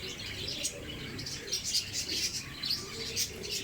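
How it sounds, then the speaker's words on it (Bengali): Pigeons at a village market cooing and chirping faintly, soft murmuring calls rising and falling over a low crowd hum. "নানান পদের কবুতর আছে।"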